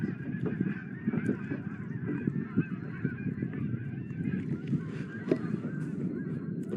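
Canada geese honk overhead during a walleye fishing trip, a fairly faint, repeated chorus of nasal honks over low background noise.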